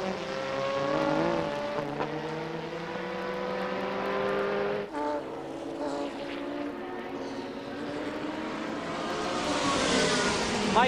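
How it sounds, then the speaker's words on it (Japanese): Silk Cut Jaguar race car at the 1988 World Endurance Championship round at Fuji, engine roaring loudly as it passes close by, rising and falling with a brief downshift dip, other race engines droning beneath. "その横を余裕、カーナンバー1番がすり抜けていきます"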